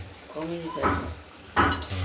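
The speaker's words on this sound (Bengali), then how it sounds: "কষিয়ে ভালো করে কষাবো।" Spices, chilies and a small amount of oil sizzle in a pan for rohu fish curry, with short bursts of stirring and scraping and faint clinks of a utensil against the pan.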